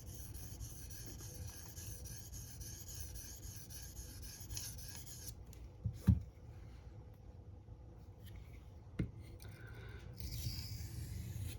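Knife blade stroked on a Benchmade diamond sharpening plate, working the tip: a steady close rasping rub with a couple of sharper scrape clicks midway, alone without talk.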